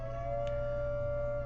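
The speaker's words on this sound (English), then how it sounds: "We have a big siren going off." A big siren sounds as a steady, faint tone held for the whole moment, with no voices over it.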